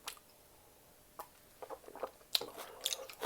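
A piece of cooked onion is bitten and chewed close up, soft wet crunching and squishy mouth sounds in a few irregular bursts over a quiet background.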